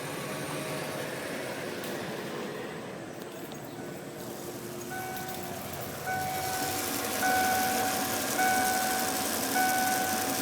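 A Ford E150 van's 351 V8 idles steadily at close range, a constant broadband engine rumble with faint intermittent tonal beeps appearing in the second half and the level rising slightly near the end.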